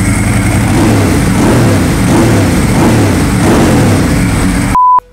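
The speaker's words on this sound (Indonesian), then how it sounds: "Dengerin suara koplingnya. Renyah banget." A Ducati 999 motorcycle engine runs loud and close, its dry clutch rattling crisply over a throbbing idle with repeated revs swelling and falling, before cutting abruptly to silence and a short tone at the end.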